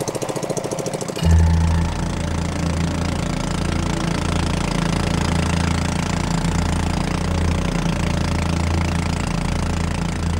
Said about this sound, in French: nous embarquons à bord d'une nouvelle pirogue à moteur, encore plus petite que la précédente